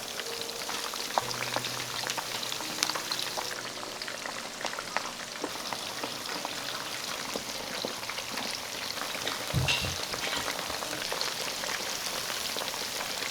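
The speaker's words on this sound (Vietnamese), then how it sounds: "Các bạn chiên đến khi nào thấy vàng đều hai mặt là được" Breaded pork cutlets frying in hot oil, a continuous crackling sizzle with dense popping, close and moderately loud, without talking.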